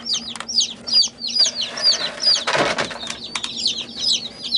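Hens clucking and squawking repeatedly nearby, with a sudden burst of wings flapping in the middle.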